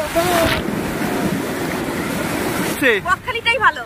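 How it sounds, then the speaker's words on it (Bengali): Ocean waves wash and break at Bakkhali beach in a rushing surge with heavy wind buffeting the microphone, followed by someone speaking near the end. "দেখতে পাচ্ছেন ঢেউ আসছে, দেখুন ঢেউ।"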